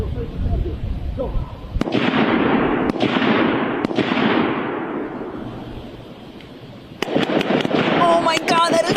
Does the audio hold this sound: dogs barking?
no